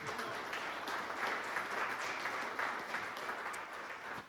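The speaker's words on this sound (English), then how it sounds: "If we give him a round of applause." An audience at a village council meeting claps for the Village of Shelby's certification, a steady mid-level wash of applause that holds for several seconds and then tapers off, with no one speaking.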